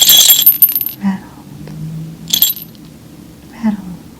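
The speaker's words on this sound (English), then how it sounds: "Rattle." A small handheld rattle shaken up close in an ASMR sound therapy session, with a crisp burst of clatter at the start and two shorter shakes later, separated by near silence.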